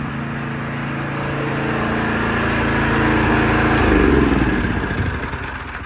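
Small gasoline engine driving a Super Pump 16 soft wash pump, a loud steady close-up drone with a rough mechanical rattle, swelling slightly in pitch and level midway before easing back as the revs drop.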